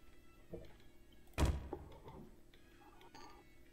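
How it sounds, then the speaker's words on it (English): A door opens in the video game Garry's Mod Prop Hunt, a single faint thunk over quiet background hum with no voices. "I heard a door."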